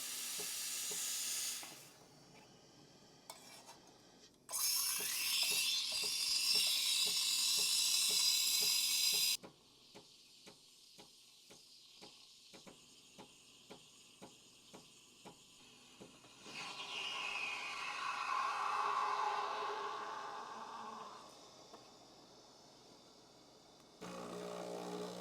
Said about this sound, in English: use a steam wand on an espresso machine if you have one